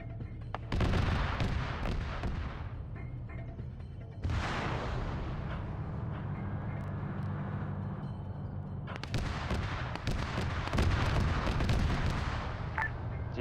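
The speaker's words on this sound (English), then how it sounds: "Cannon fire." Cannon and artillery fire in a video game battle: a sustained barrage of loud booming blasts and crackling gunfire, with heavy bursts at the start and again near the end and continuous rumbling between.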